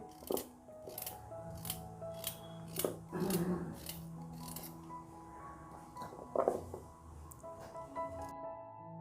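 A knife slices carrots into round pieces for gajar halwa, producing about a dozen sharp crisp cuts at an uneven, unhurried rhythm, close and fairly quiet, with no talk.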